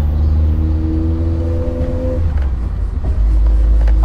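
A Nissan Silvia S14 Q's with its SR engine rumbles through the exhaust. It runs a steady low drone that swells, dips briefly, then surges back louder and deeper, close and loud with no talk over it.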